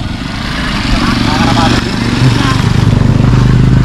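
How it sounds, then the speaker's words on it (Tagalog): A motorcycle engine drones close by in Camalig, Albay, its rough hum growing steadily louder as it passes. Voices talk over the noise. "Teka lang may motor boy."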